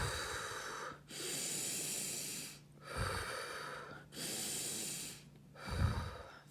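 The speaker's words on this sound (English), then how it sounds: "Let's take 3 deep breaths." Three deep breaths taken slowly and close up, each a long airy inhale and exhale separated by brief pauses.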